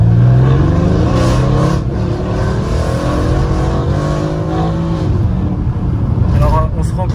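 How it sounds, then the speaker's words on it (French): A Brabus 650 car accelerates hard, its engine note climbing through a loud, sustained rev close by, with voices speaking inside the car. "si t'as envie de te permettre une petite accel, tu peux te faire plaisir"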